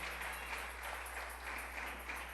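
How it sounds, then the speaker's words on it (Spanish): A church congregation at a Sunday service clapping for the Lord, heard as faint, distant, steady applause with a continuous low hum underneath. "no sin antes darle palmas al Señor con todo su corazón"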